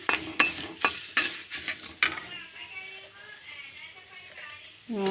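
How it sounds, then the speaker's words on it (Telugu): Ajwain and urad dal sizzle in hot oil for a tempering, with sharp clinks of a spoon stirring against the pan in a quick, uneven rhythm. A faint fry crackles beneath, close and fairly quiet. "వాము దోరగా వచ్చే వరకు ఈ తాలింపు అంతా వేగే వరకు వేసుకోవాలండి"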